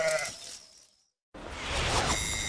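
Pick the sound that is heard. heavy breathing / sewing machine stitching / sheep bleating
sheep bleating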